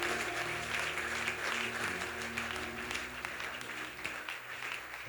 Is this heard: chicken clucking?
no